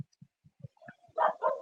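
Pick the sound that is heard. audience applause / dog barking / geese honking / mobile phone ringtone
dog barking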